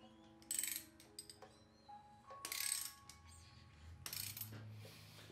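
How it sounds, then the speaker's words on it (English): A 1980 Honda CB650 Custom motorcycle engine is turned clockwise by hand, producing scattered mechanical clicks, ratcheting ticks and light metallic clunks, close by and fairly quiet, with no talking. "So I'm just going to go ahead and start rotating the motor clockwise."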